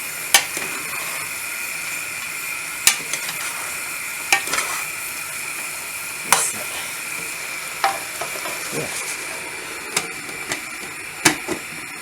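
Lamb keema curry frying in a pan gives off a steady sizzle, broken every second or two by the sharp scrape and clack of a spoon stirring the mince.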